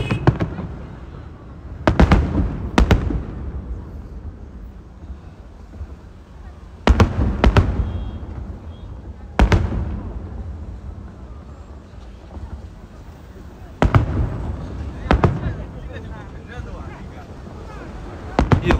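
Fireworks at a Lunar New Year display burst in sharp booms, often in quick pairs or clusters, about eight times over a lingering crackling rumble, some near and loud.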